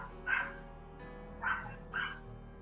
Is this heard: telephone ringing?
no